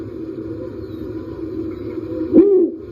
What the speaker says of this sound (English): A snowy owl.